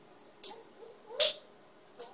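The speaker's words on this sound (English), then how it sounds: "Clap your hands." Three sharp, separate handclaps ring out about a second apart against a quiet room, fairly faint and with no steady rhythm; the clapping is from children.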